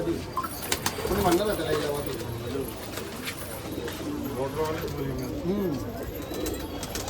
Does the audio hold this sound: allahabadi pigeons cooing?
yes